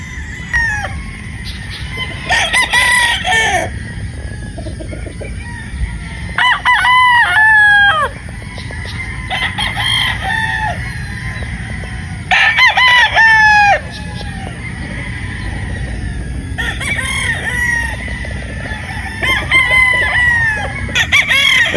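Several gamefowl roosters crow repeatedly at a game farm in Batangas, loud and close, their calls overlapping with scattered clucking in between.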